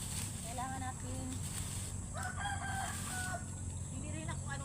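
Chickens and a rooster crow and cluck in the background of a rural yard, faint broken calls drifting over steady hum while a person talks nearby.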